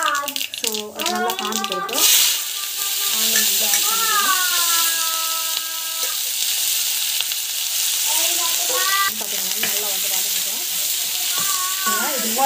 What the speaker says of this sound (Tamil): ஸோ கடுகு சீரகம் வந்து போட்டுக்கலாம்.